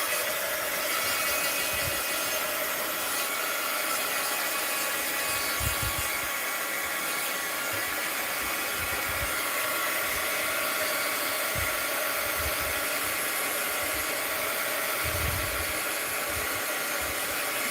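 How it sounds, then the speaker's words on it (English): Heat gun blowing hot air over a mixed-media art journal, a continuous loud whooshing roar throughout with occasional low bumps and handling knocks underneath, no talking. "let's hit with the heat gun."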